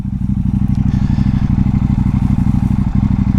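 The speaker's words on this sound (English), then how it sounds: "That's just tickling along on idle. It's at, what's that? Maybe 1400 RPM." A KTM 790 Duke engine idles at about 1400 RPM, a loud close steady thrumming pulse with fast even firing beats and no throttle changes.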